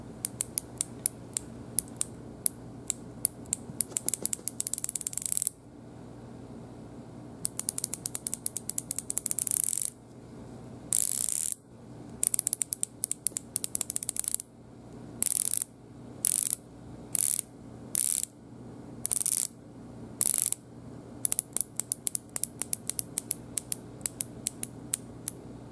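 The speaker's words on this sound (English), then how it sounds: "Now the bezel action on this is really nice. It has a sharp tone to it, but it's smooth at the same time." The rotating bezel of a Casio Oceanus OCW-P2000 watch turns in bursts of sharp, crisp ratcheting clicks, close and clear, with runs of fast clicks separated by brief pauses.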